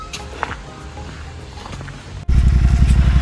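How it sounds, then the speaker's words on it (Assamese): Motorcycle, left out in the rain overnight, being started: quiet rustling at first, then the engine catches and settles into a loud, close, rhythmic idle. "বাইকখন ষ্টাৰ্ট দিব লাগে"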